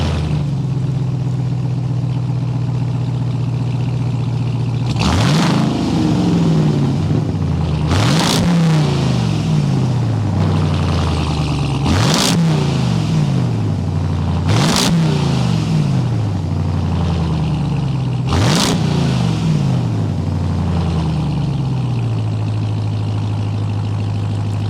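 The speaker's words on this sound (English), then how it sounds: "Let's start it up and hear that exhaust note." A 2022 Ram TRX with a supercharged 6.2-liter Hemi settles into a deep idle, then its exhaust barks through five sharp revs spaced a few seconds apart, each rising and falling back to a rumbling idle, loud and close.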